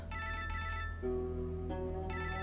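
A mobile phone ringtone plays a repeating electronic melody in bursts, a clear tonal tune cycling through its phrase, fairly faint and alone with no talk.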